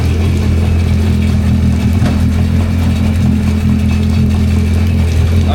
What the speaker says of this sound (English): Now we're flushing the engine.